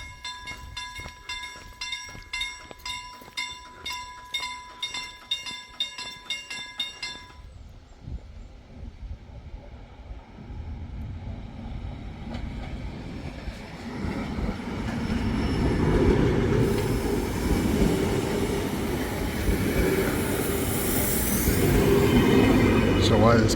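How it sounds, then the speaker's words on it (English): A slow express train in Sweden rolls by with rhythmic wheel clicks over the rails at first, then a louder rumbling, scraping rush with high squeal. "So why this train's going so slowly?"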